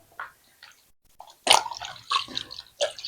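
A small pet being wiped clean of sticky milk and porridge with a wet cloth and warm water, heard as close, soft intermittent squishing and dripping sounds in uneven bursts with quiet gaps and no speech.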